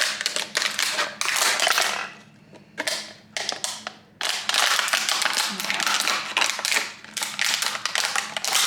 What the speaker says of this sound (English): what we're going to do now is we're going to cut our bottle